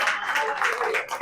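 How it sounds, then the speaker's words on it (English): Audience clapping at a campaign kickoff rally in Des Moines, a steady patter of many hands heard close and fairly loud for a brief moment. "Give yourselves a round of applause."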